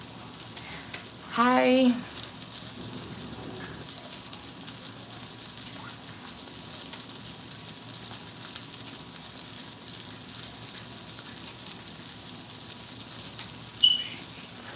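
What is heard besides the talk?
sausage frying in a pan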